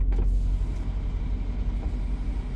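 A heavy vehicle's deep, continuous engine rumble close by, steady low droning with a brief hiss near the start.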